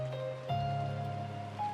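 Steady rain ambience from the Umineko When They Cry visual novel, a soft continuous patter blended with sustained low tones and a brief swell midway.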